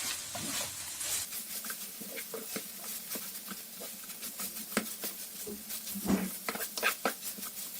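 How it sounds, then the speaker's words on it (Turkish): Tomato and pepper paste frying with ground meat in a pan, heard as a soft, steady sizzle with scattered pops and scraping stirs of a spoon, close by and fairly quiet, with no talking. "Salçayı iyice böyle kıymaya yedirip kavuruyorum."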